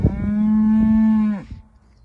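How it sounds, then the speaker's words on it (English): Cows in an Aberdeenshire field, one loud, close, drawn-out moo of over a second with a falling tail, alone. "Oh, these cows."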